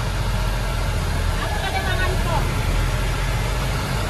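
A Laju bus pulls away from a shelter, its engine a steady, close low rumble inside the cabin, with a person talking over it.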